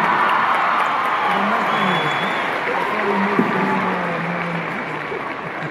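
Concert audience at the Auditorio Nacional in Mexico City applauding and cheering for a band, a broad steady wash of clapping from a large crowd that carries on throughout.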